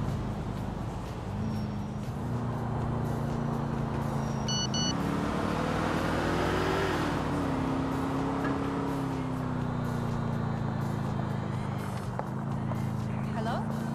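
A car drives through the streets in the video game GTA IV, its engine a steady low drone that rises and falls slightly with throttle, mixed with road and traffic noise, continuous and close.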